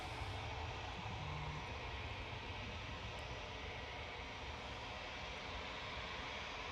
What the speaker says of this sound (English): This EasyJet A320 Neo is off to Munich as well.